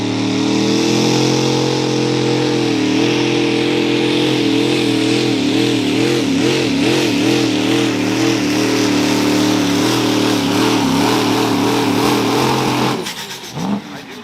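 The pulling vehicle Migraine revs hard on a pulling track, a loud, sustained engine roar whose pitch wavers and surges before cutting off abruptly near the end.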